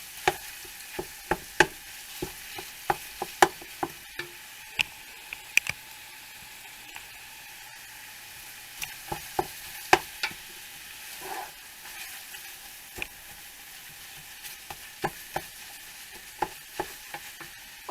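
Food browning in a pan for a lasagna soup, a faint steady sizzle under frequent sharp taps and scrapes of a spoon stirring, quiet and close, with no voices.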